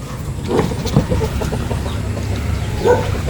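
Breeder chickens in a coop in the afternoon give scattered, close clucks and short calls over a low, steady farmyard background.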